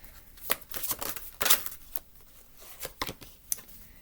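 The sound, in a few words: shuffling a deck of cards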